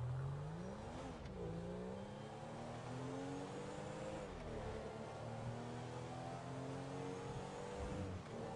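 A car in GTA 5 drives and revs continuously, its engine pitch rising and falling through gear shifts, loud and steady without any talk.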